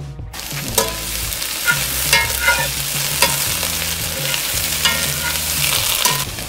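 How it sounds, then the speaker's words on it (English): Food sautéing in a terra cotta cooker sizzles loudly and continuously, broken by repeated scraping stir strokes of a utensil against the cooking surface, close up with no voices. "and get ready to saute."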